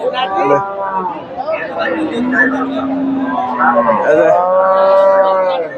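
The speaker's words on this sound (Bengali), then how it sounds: "এই যে এ প্রচুর গাভী আছে" Cattle at a busy rural livestock market for Friesian and crossbred dairy cows, with several loud, close moos rising and falling over a steady murmur of people chattering.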